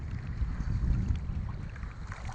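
A boat out on the water in Pangasinan, with a close, rumbling wash of water and wind buffeting the microphone, steady and moderately loud across a short stretch, with no voices.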